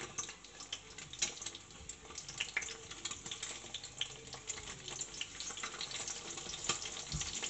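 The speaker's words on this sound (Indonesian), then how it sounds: "goreng telur ini meletup-letup ya teman-teman, atau muncak-muncak minyaknya ini" Steady sizzling of an egg frying in hot oil, with frequent sharp pops and crackles scattered throughout, heard up close with no talking.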